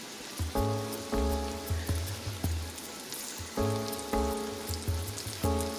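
Pork chops fry in hot oil in a pan with a dense, steady crackling sizzle, alongside a recurring tonal melody in the background.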